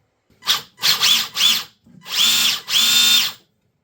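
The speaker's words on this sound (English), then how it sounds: "And might help if you plug the motor in." Small electric motor of a Tamiya Hotshot RC car whirring in five short bursts, revving up and down in pitch, close and loud against silence.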